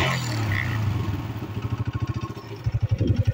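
A motorcycle engine idles just after being started, a close, loud, throbbing putter whose pulses grow more distinct and rhythmic toward the end, with no talk over it.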